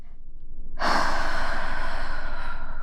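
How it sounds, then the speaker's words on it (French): A person at a tabletop role-playing session draws one long, deep breath, a sudden breathy rush close to the microphone that starts after a brief quiet and lasts about two seconds. "Je prends une grande respiration"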